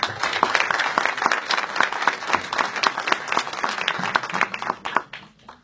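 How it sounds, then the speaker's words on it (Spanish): Audience at a gender-equality commitment event applauds to welcome a government minister, steady full crowd clapping for about five seconds before tapering off at the end. "La recibimos con un fuerte aplauso."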